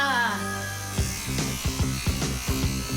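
A cartoon electric toothbrush buzzes in several short, pulsing bursts with a steady drone underneath, close and fairly loud, after a brief whine at the start.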